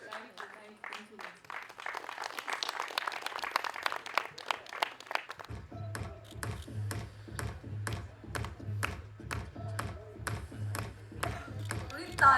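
Applause at a song launch event rises into a dense burst of clapping from an audience, then gives way to slower, sharper rhythmic claps over a low pulsing beat, with talk mixed in.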